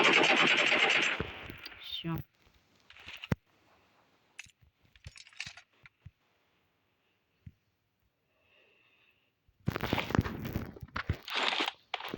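Bursts of rapid gunfire open and close the stretch, loud and sharp, with scattered single shots and clicks in the quieter middle.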